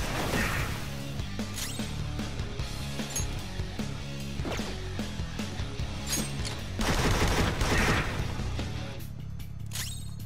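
Rapid video-game gunfire during a Persona 5 Royal battle, dense bursts of shots with crashing hits that keep up steadily throughout, with a louder barrage near the end.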